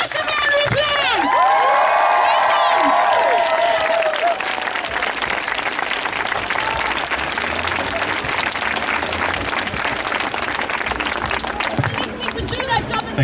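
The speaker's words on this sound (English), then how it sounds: "Give a massive round of applause!" A large crowd applauds and cheers continuously, with shouts and whistles rising early on, a dense, sustained roar of clapping.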